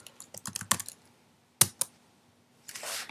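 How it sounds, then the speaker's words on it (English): Fingers type quickly on a computer keyboard in short bursts of clicks with a pause between them, then a softer rustle follows. The keys sound close and fairly quiet. "you're going to go to Google and you are going to type in"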